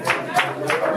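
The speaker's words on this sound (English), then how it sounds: "Clap for her." An audience at a bishop's sermon claps for a woman named Monica. Loud, close claps land in a steady rhythm of about three per second, with a voice running underneath.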